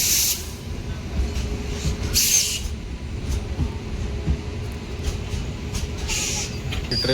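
The Nanded–Panvel Express pulls into a station platform with a broad hissing rush and low rumble, punctuated by sharper bursts of air and clatter.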